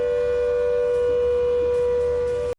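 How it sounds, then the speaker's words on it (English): A civil defence air raid siren sounds during a massive nationwide civil defence drill in India, one loud, steady wail held throughout with no voices, then cutting off abruptly at the very end. "Sirens are sounding"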